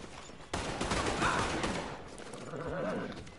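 A sudden loud burst of gunfire in the Red Dead Online video game, followed by a dense sustained rattle of shots and echoing noise that slowly fades, with no talking.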